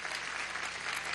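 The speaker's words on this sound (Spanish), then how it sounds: "Un aplauso a la Fuerza Armada Nacional Bolivariana." Crowd applause for Venezuela's Bolivarian National Armed Forces at a government celebration in Caracas, a steady wash of clapping from many hands throughout.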